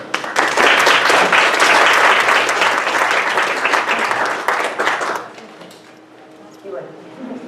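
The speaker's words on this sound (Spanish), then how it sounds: "para quien pido nuevamente un fuerte aplauso" A lecture audience gives a strong round of applause for a speaker at a psychoanalysis conference, dense clapping that tapers off after about five seconds into a quiet room with faint handling noises.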